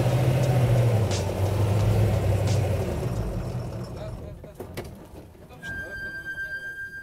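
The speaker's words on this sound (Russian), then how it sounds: "Газу, это был полный газ в пол" A PAZ bus converted into a motorhome revs hard at full throttle through mud, a loud low engine roar that swells and holds for several seconds, then eases as a higher whine and softer rumble take over.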